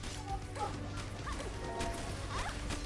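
An item is smashed in a sword video game, with a crash and impact hits amid busy game sound effects and music.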